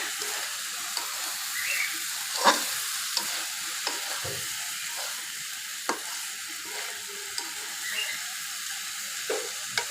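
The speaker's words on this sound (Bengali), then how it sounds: "একটু নেড়ে চেড়ে নিচ্ছি" A spatula stirs river mixed-fish and jackfruit-seed curry in a pan with steady scraping strokes over a soft, continuous sizzle, close up and with no talking.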